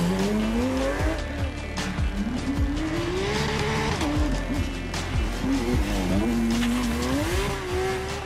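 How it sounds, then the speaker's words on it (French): A Porsche rally car with a 500-horsepower rear-wheel-drive flat-six races at the Rallye du Touquet. The engine wails loudly and continuously, its pitch rising and falling through gear changes, with tire squeal and gravelly crackle underneath. "dans la Porsche, c'est vraiment le moteur qui parle, le flat 6 qui fait un bruit"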